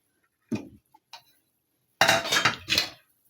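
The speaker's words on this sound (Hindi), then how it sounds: "अब मैं इसके ऊपर ढक रही हूँ सिर्फ 2 मिनट।" A cooking lid clanks onto a pan covering a bread omelette pizza: two light metallic taps, a pause, then a louder clattering rattle and a final clink as it settles, close by in a quiet kitchen.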